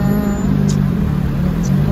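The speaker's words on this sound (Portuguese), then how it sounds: "Motor de carro." A car engine drones steadily from inside the vehicle on a highway trip, a loud, even low rumble with road noise and no voices.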